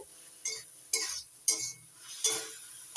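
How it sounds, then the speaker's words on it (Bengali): Paneer being stirred in spiced oil in a pan, with five sharp spoon-on-pan scrapes and clinks at a steady, evenly spaced rhythm, close and fairly quiet, no talking. "পনিরগুলো একটু নাড়াচাড়া করে ভেজে"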